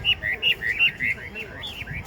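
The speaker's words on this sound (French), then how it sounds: "on entend beaucoup les oiseaux dans le parc" Caged brown songbirds resembling blackbirds in a Shanghai park, chirping in quick repeated whistled phrases, close and clear over soft background murmur.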